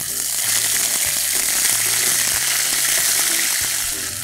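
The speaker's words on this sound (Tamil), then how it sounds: "எண்ணெய் சூடாயிருச்சு, இதில் நம்ம ஜீரகம், உங்களுக்கு ஜீரகம் தாளிச்சாச்சு, இதுலேயே இஞ்சி பூண்டு விழுது." Ginger garlic paste and cumin frying in hot oil, a loud, close, steady sizzle with light stirring clicks throughout.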